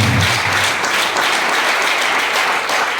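Steady applause from a church congregation during a worship service, a dense wash of many hands clapping evenly throughout, a brief voice heard at the very start.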